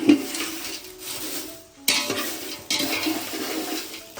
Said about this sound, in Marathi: मेन काम आता मिरच्या टाकून घेऊ थोड्या थोड्याशा भाजून घ्यायच्या पटापट.